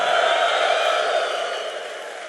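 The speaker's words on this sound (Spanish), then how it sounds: "Ahora acompáñalo con un grito de júbilo." Cheering and clapping from a church conference audience, a broad roar of voices and hands that holds strong, then gradually fades toward the end.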